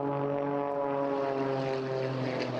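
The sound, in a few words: propeller aerobatic aircraft flying at airshow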